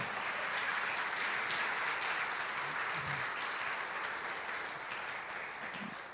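A church congregation claps during an evening worship service, a soft, distant wash of steady applause that gradually thins toward the end, with no voices standing out.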